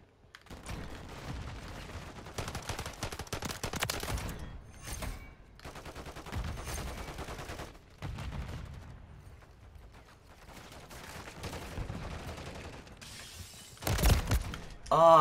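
Bursts of gunfire in Call of Duty on the Rundown map, with pistol shots and rapid volleys in several loud bursts separated by short pauses, ending in a louder burst near the end.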